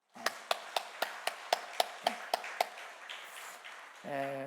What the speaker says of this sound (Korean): 네, 우리 박수 한번 더 쳐줍시다.